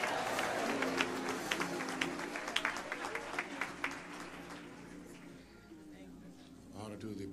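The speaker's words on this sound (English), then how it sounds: "Clap your hands and say," A congregation at a bishop's homegoing service claps in a lively burst of applause under a voice and crowd noise, the claps thinning out and fading toward the end.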